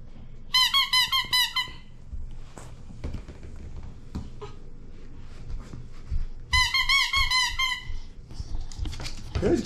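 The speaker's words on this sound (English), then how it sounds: "Get your squeaky toy." A dog's rubber squeaky toy gives two quick bursts of sharp, repeated squeaks, one near the start and one past the middle, with footsteps, taps and indoor household noise between them.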